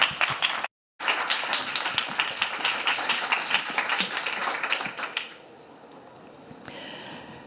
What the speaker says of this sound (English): Please also give her a round of applause